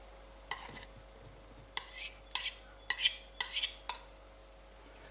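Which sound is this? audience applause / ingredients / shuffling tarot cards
ingredients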